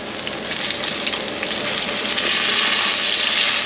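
Wagyu steak sizzling loudly in a hot cast iron pan as it is flipped, a dense, steady hiss of frying fat that builds slightly louder toward the end, with no voices.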